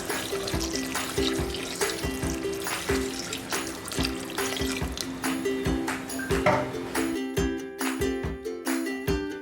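Water poured and splashing into a biryani cooking pot with coriander leaves, a steady running, trickling wash with clattering taps over a constant hum, fairly close and continuous.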